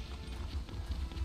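Camel footsteps while riding in the video game The Elder Scrolls Online, a quick series of soft, rhythmic thuds close up over a low background hum.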